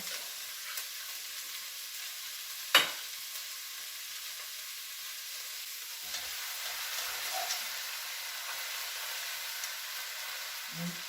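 Onions searing in a pot for whiskey pot roast give a soft, steady sizzle throughout, fairly quiet, with one sharp clink of a utensil early on and a few light stirring knocks.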